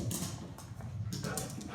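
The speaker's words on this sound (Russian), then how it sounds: "Это замечательная собака Джули." Julie, a fluffy shelter dog, gives soft whimpering whines over a low steady background rumble, with faint scuffling noises and no speech.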